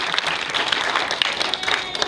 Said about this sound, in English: a big round of applause for Rod.